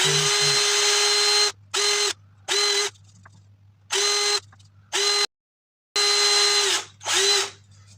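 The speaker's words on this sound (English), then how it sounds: "I'm just going to drill these holes slightly bigger because the bolts are slightly bigger" A power drill enlarges bolt holes in a laser engraver enclosure in several short, loud, close bursts separated by gaps of quiet.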